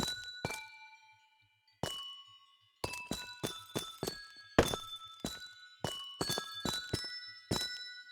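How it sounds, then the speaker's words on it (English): Amethyst crystal blocks in Minecraft give off bright, bell-like crystalline chimes, a dozen or so separate ringing strikes in an irregular sequence, each decaying with a shimmering tail. "I love the just random chimes, like those random kind of crystalline chimes"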